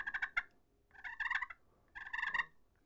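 Slate turkey call worked by hand to mimic a hen's purr, three short rolling trilled bursts with brief gaps between them, close and clear with no talking.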